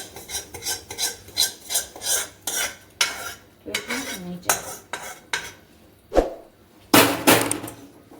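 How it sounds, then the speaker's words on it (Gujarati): Almond burfi mixture being stirred with jaggery in a pan off the heat, a spoon scraping and clinking against the metal in a steady run of strokes, close and fairly loud, with no talking. "તો હવે મસ્ત રીતે આપણે મિક્સ કરી દઈએ ગોળમાં"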